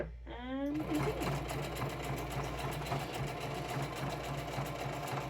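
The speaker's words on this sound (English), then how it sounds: "So then the sewing machine will automatically feed the fabric through" A sewing machine stitches a patch onto fabric, a steady close mechanical whir with a rapid rhythmic chatter, preceded by a brief voice at the start.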